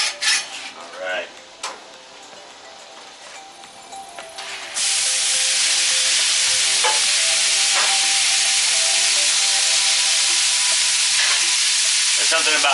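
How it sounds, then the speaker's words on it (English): Peppers and onions hitting an oiled Blackstone 22-inch griddle, a few spatula scrapes and clinks first, then a sudden loud, steady sizzle that holds to the end. "There's something about peppers and onions on the grill, folks."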